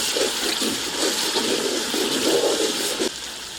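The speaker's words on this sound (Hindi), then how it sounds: "हल्का सा पानी डालेंगे।" Water pours steadily into a pot of Peshawari-style beef dum pukht being seasoned with coriander powder, black pepper and salt, a continuous close splashing stream lasting a few seconds with no talk.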